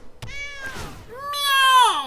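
A cat gives two clear, drawn-out meows close by, the second longer and rising then falling in pitch, with a short gap between them.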